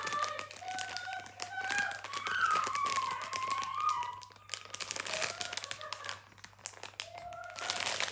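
A Galatasaray box is opened by hand, its packaging crinkling and crackling in close, uneven bursts while voices talk over it.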